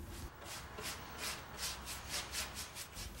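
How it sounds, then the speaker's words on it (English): A damp rag wipes excess stain off an old wooden farmhouse table in quick, rhythmic rubbing strokes, soft and close with no talking. "Once I apply the stain, I'll wipe the excess immediately with a damp rag."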